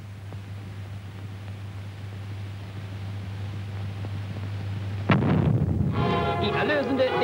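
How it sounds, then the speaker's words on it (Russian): A torpedo hits a ship in the submarine game Grey Wolves. A steady low engine hum gives way to a sudden loud blast, followed by heavy rumbling and crackling debris noise. "Слышен звук взрыва."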